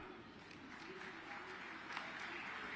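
Audience applause at a Vice President's speech during the Hisar agricultural development fair, a steady, moderately distant wash of many hands clapping that runs evenly throughout without individual claps standing out.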